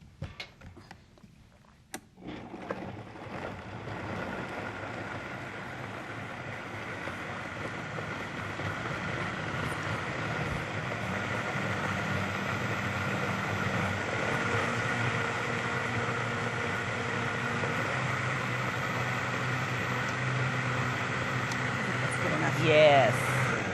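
A blender whirls dill, olive oil, maple syrup, avocados and water into a salad dressing, a steady loud motor drone that starts abruptly after a brief pause and holds for about twenty seconds with slight rising strain.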